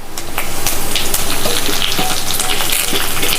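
Mustard seeds and curry leaves sizzle and crackle vigorously in hot oil, a loud, continuous close-up frying hiss with scattered pops and no talking.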